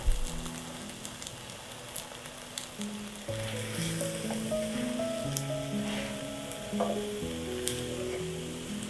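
French toast soaked in egg mixture fries in a pan with a soft, continuous sizzle and faint bubbling, heard under quiet background music.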